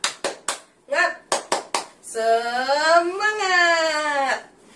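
A fourth-grade elementary class claps several quick sharp beats in rhythm, then voices rise together into a loud, drawn-out chanted call.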